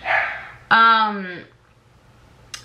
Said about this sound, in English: those dogs are so annoying